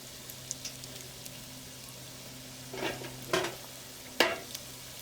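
Donuts deep frying in hot oil inside an RV kitchen, a quiet steady bubbling broken by a few short louder bursts of sizzle and clatter.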